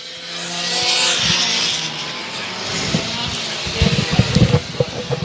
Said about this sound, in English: We got the hot shot cars going by.